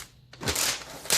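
Plastic wrapping crinkles and crackles as it is pulled off a new ASUS Zenbook UX305FA laptop during unboxing, a quiet start giving way to a dense rustling burst and a second sharp crinkle near the end.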